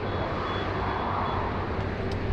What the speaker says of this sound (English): Fiji Airways